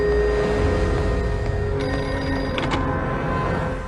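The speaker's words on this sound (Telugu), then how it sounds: "ప్లాట్ఫామ్ నంబర్ 1 మీద ఉన్న పబ్లిక్ టెలిఫోన్ రింగ్" Public telephone ringing on platform 1 of a railway station in a film climax scene, a loud steady electronic ring sustained throughout amid busy ambient noise.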